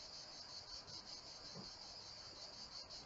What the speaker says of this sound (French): on va laisser tout cela s'intégrer sous le chant de cigale